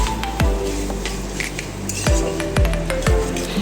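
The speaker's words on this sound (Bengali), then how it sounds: "এই পর্যায়ে আমি দিয়ে দেব আগে থেকে সেদ্ধ করে রাখা সয়াবিন এবং আলু।" Pre-boiled soya chunks and potatoes drop into a spiced pan, making a few soft thuds and metallic clinks of a spoon against the pan, spaced irregularly and close by.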